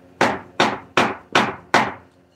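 Five sharp hammer strikes on wood, like a judge's gavel in a courtroom, evenly spaced about every 0.4 seconds, loud and close with no talking.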